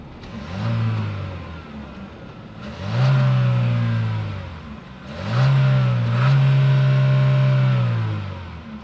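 A 2026 Chevy Equinox RS with a 1.5-liter turbocharged four-cylinder engine revving three times from idle, each rev rising and falling, the last one held longest, loud and close.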